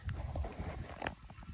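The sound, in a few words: miniature horses hooves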